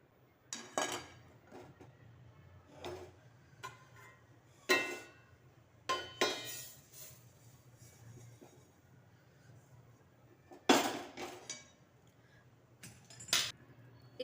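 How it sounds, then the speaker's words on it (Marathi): Roasted white sesame seeds scraped from a pan onto a plate: a series of separate rattling, scraping bursts with light metallic clinks, fairly quiet against a soft background hum. "आता याला एका प्लेटमध्ये काढून घेऊया"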